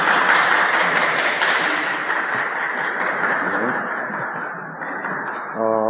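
A church congregation at a Paris church team meeting claps together, a dense, sustained round of applause that slowly fades over several seconds.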